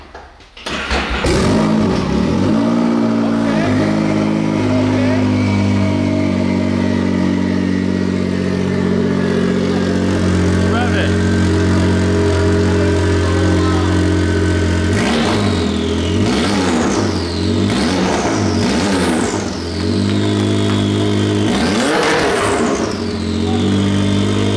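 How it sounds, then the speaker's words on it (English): A Can-Am Maverick R side-by-side with an Evo Stage 5 exhaust, loud and close, idles with a deep steady rumble, then rips through several sharp revs with rising and falling turbocharged whine, the last one long and strong. "it's got so much turbo sound to it"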